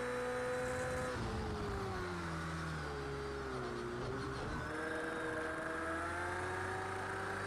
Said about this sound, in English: Definitely a BMW.